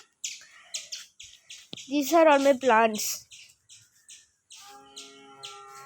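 Small birds chirp around a garden water bucket, bright quick tweets scattered throughout and close by, while a person talks over them partway through.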